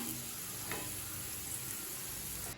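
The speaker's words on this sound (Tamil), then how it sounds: "இப்போ உருளைக்கிழங்கு பாருங்கள், நல்லா கிறிஸ்பியாக ஆகிடுச்சு" Potato fry (urulaikilangu varuval) sizzling crisp in a pan, a steady close frying hiss and crackle running evenly throughout with a brief stir near the start.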